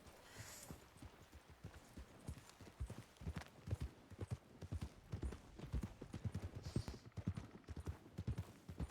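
Horse hooves clip-clop steadily in RedM, a Wild West role-play game, with a quick irregular rhythm of close, distinct hoofbeats that grows denser and louder in the second half.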